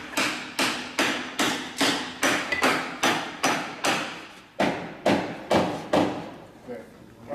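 Hammer blows drive wooden wedges tight during a wooden boat restoration, a steady run of about fifteen loud, close strikes at an even pace, then a short pause, three more strikes and a faint final tap.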